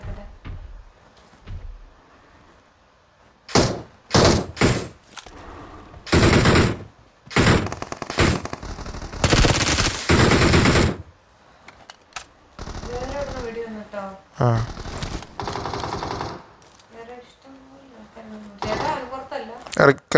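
Bursts of gunfire in a PUBG (BGMI) mobile battle match ring out loud and close in sharp volleys, some rapid like automatic fire, with someone talking in between.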